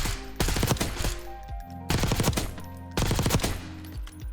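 Three long, loud automatic bursts of gunfire ring out at a firing range in Black Ops 6, each sustained rapid rattle separated by a brief pause.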